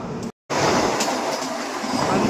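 A Vande Bharat Express passing close by: a loud, continuous broadband roar and rush of rail cars with faint wheel clatter, briefly cut to silence for a moment before resuming at full strength.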